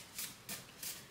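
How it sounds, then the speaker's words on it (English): A deck of tarot cards is shuffled in three quick riffling bursts, close and crisp, with short pauses between them. "One more shuffle"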